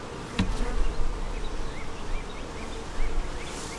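Honey bees swarm and buzz densely around an overflowing hive with a full top box, a constant close hum dotted with passing whines of individual bees.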